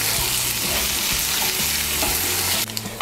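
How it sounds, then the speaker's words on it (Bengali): Onion and green chilli frying in a pan for an okra curry, a dense continuous sizzle with a few stirring scrapes, close and loud, ending with a brief clatter. "দিয়ে দেব কাঁচা লঙ্কা, দিয়ে পেঁয়াজটাকেও হালকা একটু ভেজে নেব।"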